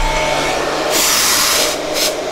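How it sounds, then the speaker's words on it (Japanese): An aerosol spray can sprays onto a heated Epiphone Les Paul guitar finish to create weather checking, two loud hissing bursts, a long one then a short one, close by over a faint hum. "こうスプレーをかけてください"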